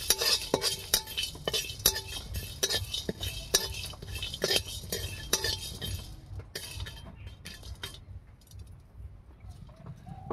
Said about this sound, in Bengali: সামান্য একটু গোটা ধনে, গোটা জিরে, 1 টুকরো জয়িত্রী, সামান্য একটুখানি জায়ফল। এটা একটু ভেজে নেব।